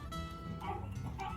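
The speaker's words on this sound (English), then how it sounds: "my little dog thinks somebody's outside, maybe the mailman." A small dog barks indoors, reacting to someone outside, giving two or three quick, fairly close yips at moderate loudness with no talk over them.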